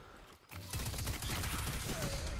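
Gunfire erupts in the Destiny 2 PC game as a sniper rifle is fired, a sudden loud burst of shot and impact noise that hangs as a dense, sustained rumble of combat for two seconds.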